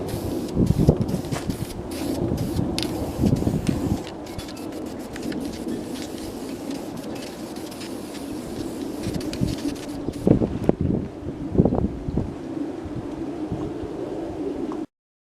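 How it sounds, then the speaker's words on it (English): Gusty wind buffets the microphone outdoors during motorcycle bodywork spray painting, a steady broadband rush with louder gusts near the start and again around the ten-second mark, then cutting off abruptly at the end. "the wind is blowing a little bit. It's blowing a lot."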